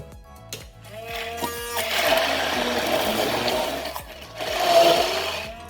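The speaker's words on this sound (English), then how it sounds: "using the hand blender is quite efficient, so it's very fine" A hand blender whirring continuously through tomato and chilli sauce, its motor pitch rising and falling as it churns, close and fairly loud without speech.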